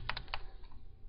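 Forward arrow keys pressed on a computer keyboard, three quick close clicks in a row followed by a couple of softer taps, alone in a quiet room.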